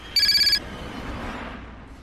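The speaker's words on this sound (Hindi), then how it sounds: "और साथ ही शुरू हुआ निकिता के फोन का बजना" A mobile phone rings with a bright electronic ring burst lasting about half a second near the start, over a low steady background rumble.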